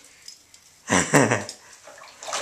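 A toddler splashing water in a bathtub with toys: quiet water movement, then two loud splashy bursts close to the microphone, followed by lighter sloshing.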